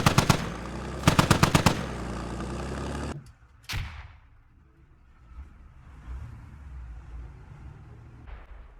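Rapid automatic gunfire bursts in the military shooter Squad, two loud clusters of shots early on, then a single sharper shot and a quieter, distant rumbling backdrop.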